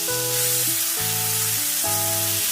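Chicken tikka sizzles hard in a pan over a high flame, a continuous bright hiss heard under loud, stepping musical tones with no voices.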